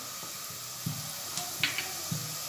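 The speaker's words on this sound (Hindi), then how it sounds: "प्याज को हम थोड़ी गोल्डन होने तक तलेंगे" Onions frying in oil in a pan for egg curry, a bright continuous sizzle with soft periodic scrapes and taps of a stirring spoon, close and alone.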